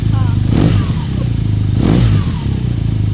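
Loud motorcycle exhaust rumbles steadily and swells in two sharp throttle blips, the engine note rising and falling with each twist.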